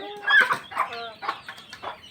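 Loose free-range hens on a farm give repeated clucks and drawn-out squawks, loud and close, in an uneven rhythm of about five calls.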